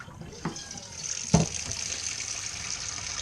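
Murky wash water from hand-washing helmet liners dumped out, a splash and gush of pouring liquid with a couple of sharper sloshes, close and steady throughout.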